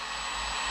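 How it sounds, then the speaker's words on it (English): A power drill spins with wires clamped in its chuck during boat building, giving a brief steady whirring motor hum at moderate level with no talk. "it is just a matter of running that drill"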